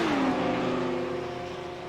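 GT3 race cars, a Porsche and a BMW, accelerate hard at Le Mans, giving a loud, close engine roar with a falling tone that slowly drifts away and softens.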